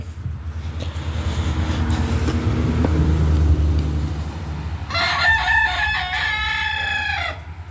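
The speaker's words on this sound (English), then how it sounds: "Quit being mean, rooster." A rooster crows loudly and clearly partway through, over a constant low rumble of engine or road noise.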